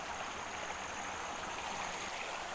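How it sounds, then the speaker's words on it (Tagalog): A creek flows steadily alongside the bank, a constant broadband rush of water with no pauses or voices, near and moderately quiet throughout. "dito ako sa gilid ng sapa, waig"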